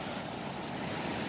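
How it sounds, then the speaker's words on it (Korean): Sea waves breaking and rushing ashore near a river park at Uljin on the Korean coast, a loud, steady wash of surf close by with wind noise on the microphone and no voices. "여기 바닷물이 이렇게 파도가 치면서"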